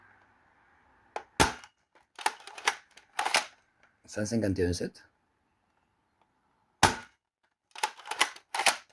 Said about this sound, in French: on va tirer 6 fléchettes longues.